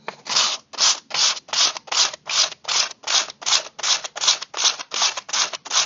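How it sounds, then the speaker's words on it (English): Sandpaper held on a sanding block rubs back and forth over a painted surface, about fourteen even, close, loud scratchy strokes in quick steady rhythm with short gaps between. "I'm just holding my sandpaper onto my sanding block."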